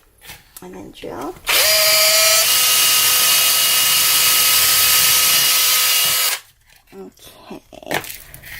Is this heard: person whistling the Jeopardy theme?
no